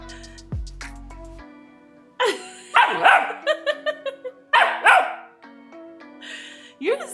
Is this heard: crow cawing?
no